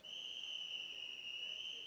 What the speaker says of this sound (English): So the whistle goes, and we're just about off the first race of the morning.